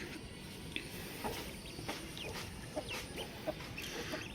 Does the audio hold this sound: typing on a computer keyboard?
no